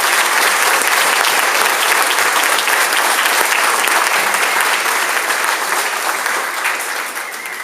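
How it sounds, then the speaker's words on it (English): A school awards ceremony audience gives sixth-grade students sustained, dense applause, loud and steady for several seconds before tapering slightly at the end. "Let's give all these students a round of applause."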